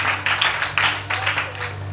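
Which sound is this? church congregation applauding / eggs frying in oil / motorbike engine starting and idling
church congregation applauding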